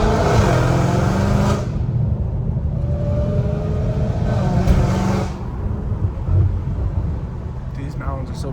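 Straight-piped Dodge Challenger Hellcat Redeye on a mountain drive, its loud exhaust rumbling and surging through two rising pulls before settling into a steady drone, with a person speaking over it.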